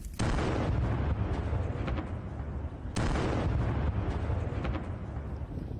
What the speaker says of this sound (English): The Russian vehicle caught fire and exploded before reaching its destination.